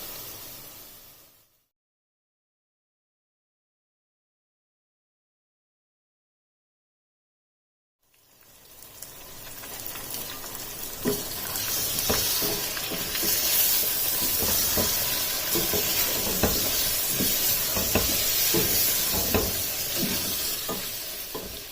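Chicken fries in hot oil with garlic and ginger paste for a gobi chicken dish. After several seconds of silence, a loud, steady sizzle starts and holds, with stirring scrapes and crackles running through it.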